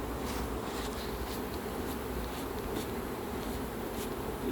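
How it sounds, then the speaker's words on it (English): Honeybees buzzing in a steady, dense drone as they are swept off a hive frame into a box during winter hive preparation, continuous and fairly close with no talking. "So I've got a few extra bees in this box. We're just going to brush them off."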